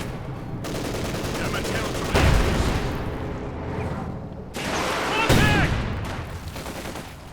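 An MG-42 machine gun fires in a Company of Heroes 2 one-on-one match: rattling bursts and booming battle noise roll on continuously, loudest in two surges, with a voice briefly heard in the mix.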